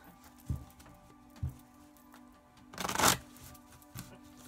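Tarot cards being shuffled by hand: a few soft taps of the deck, then one brisk riffling burst near the end, close and quiet with no talk.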